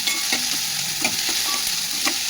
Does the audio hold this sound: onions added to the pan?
yes